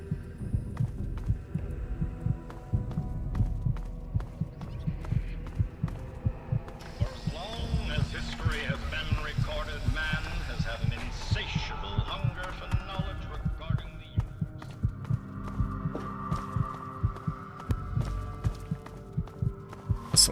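A steady thumping heartbeat loop from the video game Fallout 3 throbs low and continuous throughout, under a shifting layer of game ambience and effects.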